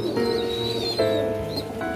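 Kalshira pigeons in a loft coo in soft, rounded tones that overlap through the short clip, close and fairly loud.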